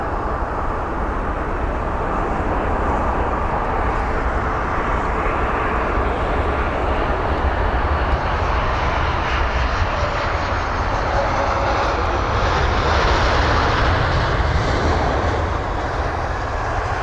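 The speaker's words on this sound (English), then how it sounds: "BA453 up next. This is the flight from Ibiza, an A320-200" British Airways Airbus A320-200 on flight BA453 from Ibiza gives a loud, continuous jet engine roar that holds steady throughout, swelling slightly toward the end.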